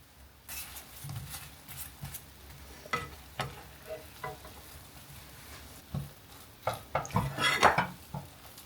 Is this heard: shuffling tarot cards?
no